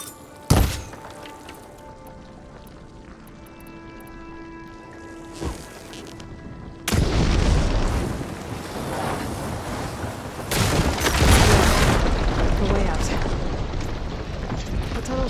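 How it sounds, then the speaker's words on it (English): Blaze barrels in Horizon Forbidden West burst apart after being struck with fire ammo, clearing debris with a sharp thump, then heavy rumbling booms and crackling debris that swell and linger. "Hitting those blaze barrels with fire ammo should do the trick."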